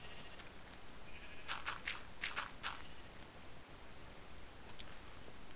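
A few short Minecraft sheep bleats cluster in the middle, moderately loud over a steady hiss of background noise, then fade out.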